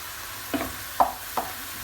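Butter hits browning minced meat in a pan for bolognese pasta sauce, giving three short, quiet sizzling bursts spaced about half a second apart over a low background hiss.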